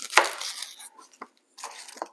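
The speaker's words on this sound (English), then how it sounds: "we are going to cut the ends off of our red onion" A knife chops through the ends of a red onion on a cutting board, with a sharp cut followed by a few softer, quieter cuts close up; no talking.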